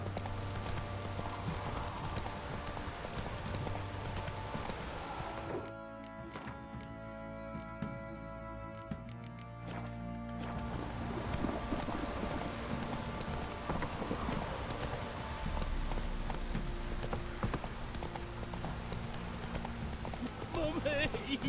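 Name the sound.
horse Roach galloping, hooves clip-clop, Witcher 3 video game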